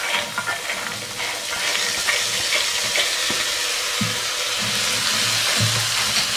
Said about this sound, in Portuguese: Então eu vou colocar o feijão aqui, ó, que eu já lavei.